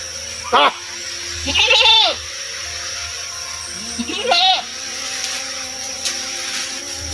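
A goat bleats three times in wavering, nasal calls at close range on a farm, with quieter background noise between the calls.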